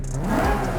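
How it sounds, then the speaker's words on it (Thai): A loud sport exhaust on a video game Nissan Silvia S15 Spec R with a swapped RB26 engine roars up close, a deep, full engine note building briefly as the revs climb. "อันนี้เป็นสปอร์ตเอ็กซอร์สนะครับ"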